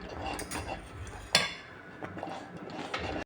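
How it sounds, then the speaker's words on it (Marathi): A spoon stirring a bajra mixture in a cooking pot, heard as a dense, continuous scraping and swirling close up, with one sharper metallic clink partway through. "आता एकसारखं याला कालवत राहायचं आहे"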